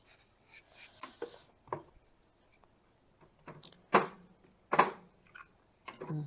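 A knife cutting through a washed, unpeeled apple on a board, a few soft scattered taps followed by several sharper distinct cuts, close and quiet with no talking.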